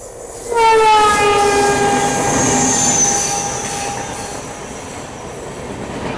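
The Sealdah–Agartala Kanchanjungha Express, stopped in a forest, sounds a long, loud, steady horn blast that swells up sharply and fades slowly over several seconds, with no talk.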